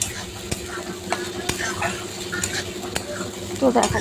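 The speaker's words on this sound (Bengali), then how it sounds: "আদা বাটা দিয়ে ভালো করে আবার নেড়ে নিচ্ছি" A spoon stirs ginger paste into spice masala frying in a pan, scraping steadily over a constant sizzle with a few soft clinks. Close and continuous, no voice.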